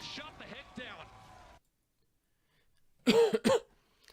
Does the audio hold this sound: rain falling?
no